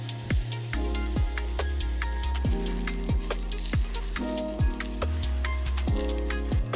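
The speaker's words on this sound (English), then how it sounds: "Sauté the onion and garlic with 2 tablespoons of olive oil until golden." Onion and garlic sautéing in two tablespoons of olive oil in a pan, a steady loud sizzle with frequent sharp crackles and pops, continuous and close with no voices.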